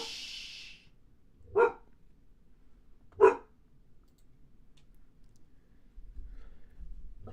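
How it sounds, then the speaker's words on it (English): A dog barks twice in single sharp woofs about a second and a half apart, moderately close in an otherwise quiet room, with no talking. "shut your face, dog. I don't even know what she's barking at."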